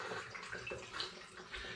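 Water, 1500 ml, is poured into a wine kit fermenter for a sparkling Sauvignon Blanc, making a continuous soft splashing stream heard close and quiet throughout.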